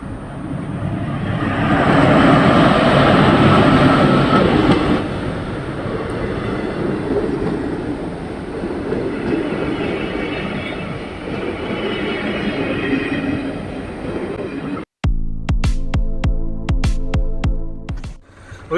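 A train rolls through a railway crossing on a Kerala road, a loud, close, sustained rumble and roar that lasts about fifteen seconds before cutting abruptly to other sounds.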